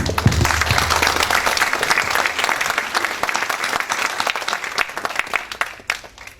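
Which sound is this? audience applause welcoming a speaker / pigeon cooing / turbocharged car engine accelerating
audience applause welcoming a speaker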